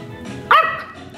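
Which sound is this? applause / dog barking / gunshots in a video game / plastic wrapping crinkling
dog barking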